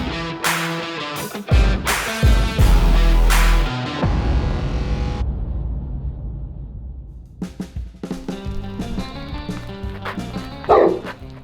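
Dogs barking loudly and close by in repeated sharp bursts, with a pause between volleys and a few yips, and no talking.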